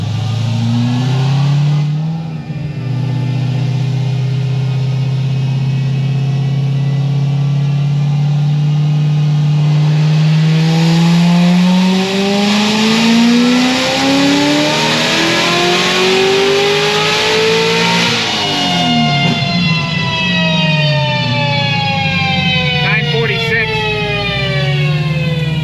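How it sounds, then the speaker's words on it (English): A Stage 5 Corvette C6 ZR1 engine revs hard and loud, its pitch climbing steadily over many seconds to a high peak, then falling back as the throttle drops, with a brief second rise near the end. "I'm gonna try and rev it a little higher this time too"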